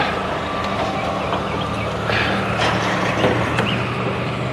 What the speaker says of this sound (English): Cattle truck.